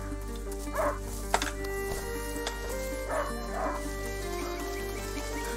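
A hunting dog in a video game barks and yips several times in short bursts over steady game music and ambience, with a sharp click partway through.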